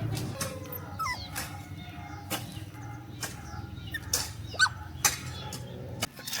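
A village puppy in rural Vietnam whimpers softly in short, thin whines, quiet against faint outdoor background noise with scattered small clicks.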